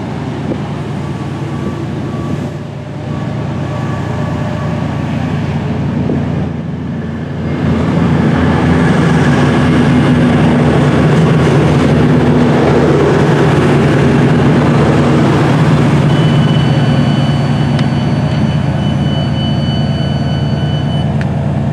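A Chiltern Railways train at Solihull's island platform, a steady close rumble that swells louder midway and holds, with a thin high whine near the end and no talking.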